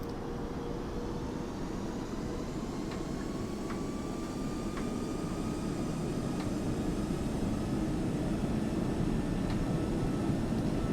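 Airliner engines roar at takeoff thrust in the Prepar3d flight simulator, a loud, steady broadband rumble with a slowly rising whine, continuous and close throughout with no speech.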